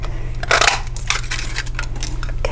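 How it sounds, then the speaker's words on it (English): A 1 1/4 inch circle paper punch presses through cardstock to cut out a bunny shape, giving one sharp crunching snap over a low steady hum, with no talking. "The first thing I'm going to do is use my 1 1/4 inch punch. Let's go ahead and punch out that sweet little bunny rabbit."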